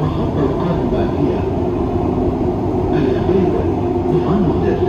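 Dubai Metro Green Line train running toward Creek station, a steady loud interior rumble and hum of the carriage with faint track clatter, continuous throughout.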